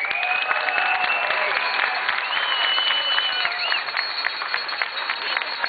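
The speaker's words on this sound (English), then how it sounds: "This is a tremendous crowd on a beautiful Saturday afternoon." A large crowd applauds and cheers at an outdoor political rally in Hartford, Connecticut, with dense continuous clapping and whistles sustained throughout, fairly loud, with voices shouting within it.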